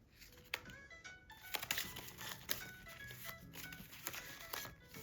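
Crinkly rustling of a small paper packet being handled up close, with soft crackles and a few sharper crinkles throughout.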